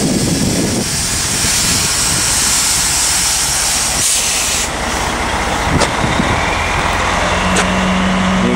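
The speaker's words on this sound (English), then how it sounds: "You can hear the truck revving." A truck engine revs while hitched to a Wink trailer that is trying to raise its bed on unlevel ground, a loud, constant roaring hiss with a few brief clicks and a faint tone near the end.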